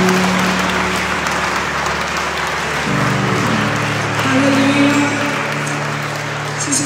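A church congregation at a Sunday service claps, a loud, continuous wash of clapping under sustained organ or keyboard tones and crowd noise, steady throughout.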